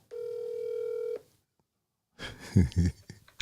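A single steady telephone tone for about a second, followed by a short silence and then a few words of speech.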